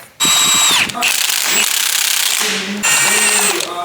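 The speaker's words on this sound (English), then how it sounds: "So we're currently taking off the head bolts from the cylinder head." A ratchet tool loosens cylinder head bolts on a BMW 4 Series engine in a workshop, loud and close in buzzing mechanical bursts separated by short pauses.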